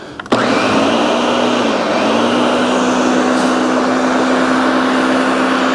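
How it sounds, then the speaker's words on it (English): Blender whirring loudly as it blends seed sprouts, kicking on abruptly and holding a constant, close motor drone with no talk. "I like to let that blend for about, I don't know, 30 seconds or so"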